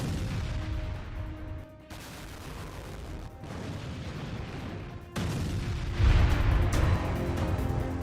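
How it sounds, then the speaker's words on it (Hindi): Heavy Russian artillery bombardment of a building in Ukraine rumbles on and on, with dense booming blasts and sharp cracks overlapping into a continuous roar of fire. "रूसी फौज ने तोप से बमबारी कर दी।"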